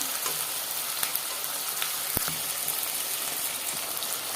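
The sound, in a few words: ghee added to the pan, chicken dish sizzling and frying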